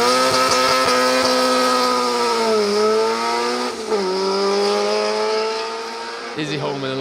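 A Toyota Starlet rally car roars past loudly on a Welsh asphalt stage, engine holding a steady high-revving note with a gear change and pitch dips, close and dominant with faint talk beneath.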